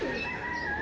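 A pigeon on a rooftop coos softly in one short, low, burbling call, with faint ambient noise and no talking.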